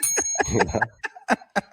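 A bicycle bell rings with bright metallic dings, a quick cluster and then several separate strikes spaced apart, close and clear, with a voice talking over the first part.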